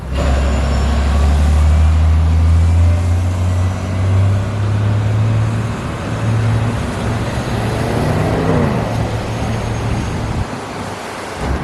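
An Orion VII New York City bus drives along heading inbound toward Forest Hills, its engine a loud, steady low rumble with shifting drone and road noise throughout.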